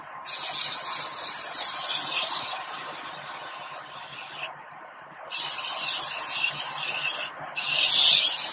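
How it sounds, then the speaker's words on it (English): Morphe Continuous Setting Mist sprayed onto a face during makeup application, a close, loud, steady hissing spray in two long bursts with a short pause and brief gaps, no talking. "I'm just gonna spray some Morphe Continuous Setting Mist before we put actual highlight."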